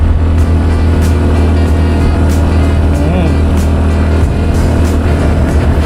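A motorcycle engine climbs a steep road on the Talisay–Sungay Road near Tagaytay, giving a loud, close, unbroken drone with heavy wind rush throughout.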